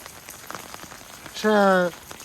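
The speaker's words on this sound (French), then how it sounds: "Alors il pleut, on le savait, mais il y a une jolie terrasse." Steady rain falls outdoors by a hotel terrace, a continuous soft wash of patter throughout, briefly overlaid near the middle by a loud, short tonal sound.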